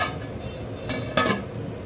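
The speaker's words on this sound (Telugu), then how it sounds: "ఇప్పుడు సైడ్ మూత పెడుతున్నాము" A metal lid is set on a pot of goat leg curry, giving two short clanks close by over a low background hum.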